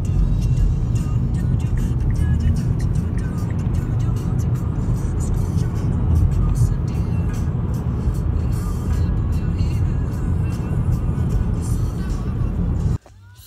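A car driving along, with a steady, loud engine and road rumble heard from inside for most of the span before it cuts off abruptly near the end.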